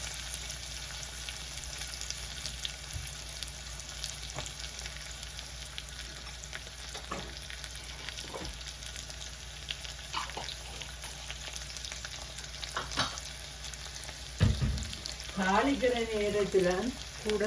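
Spices temper in hot oil in a pan for a Tamil curry, with turmeric going in: a quiet, steady sizzle with occasional stirring clicks that swells into louder, bubbling frying near the end.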